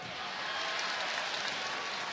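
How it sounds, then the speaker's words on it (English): Basketball arena crowd applauding steadily during a college game between Iowa and Virginia Tech, a dense, sustained wash of clapping from a large crowd with no break across the clip. "Nice big round of applause for Robinson as he goes to the bench."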